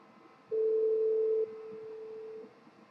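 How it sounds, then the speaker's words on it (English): A call placed from a cellular smartwatch rings out with a steady electronic ringback tone, strong at first and then fainter for about two seconds, over quiet room noise. "I'm going to tap on the phone app, and I'm going to call Deidre"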